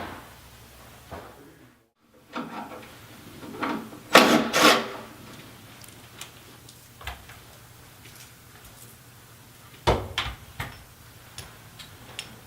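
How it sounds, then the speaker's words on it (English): Bolts being removed from the drive plate of a Yeti SnowMX snowmobile during a jackshaft install: a run of close clicking ratchet and wrench strikes, with two bursts of louder clattering metal and scattered ticks between them. "Now we can unbolt the bolts off the drive plate and get ready to pull the drive plate off."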